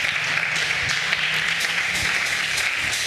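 A church congregation applauds after a Gospel reading, a steady wash of many hands clapping at moderate distance with no voices, sustained evenly throughout.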